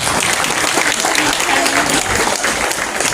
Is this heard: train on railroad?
no